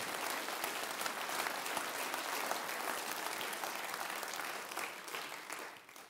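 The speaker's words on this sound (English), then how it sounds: "Round of applause, please." An audience at a science panel discussion applauds with sustained, dense clapping that holds steady for about five seconds and then begins to fade, with no speech over it.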